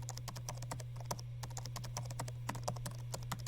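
Rapid, irregular clicking of keys on a mechanical computer keyboard, crisp and fairly close, sounding steadily throughout over a constant low electrical hum.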